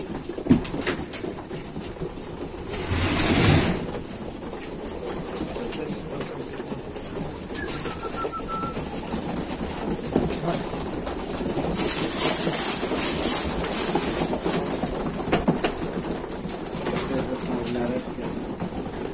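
Pigeons coo in a loft holding about twenty birds, a soft, steady murmur of calls running throughout, with a louder burst near the start and some background shuffling.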